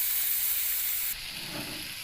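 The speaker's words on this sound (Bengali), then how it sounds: "আলু ভাজাটাকে এভাবে বারবার নাড়িয়ে চাড়িয়ে ভাজিয়ে নেওয়া হচ্ছে" Potatoes fry in a pan over a clay stove for a spicy red potato dish, a steady close sizzle with soft scraping and stirring sounds, louder in the first half before the hiss drops slightly.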